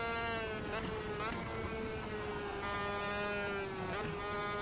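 Superkart engine in Automobilista 2 on the Suzuka start-finish straight, a steady high-pitched buzzing drone with rich harmonics that shifts pitch slightly as the kart runs, continuous and close throughout.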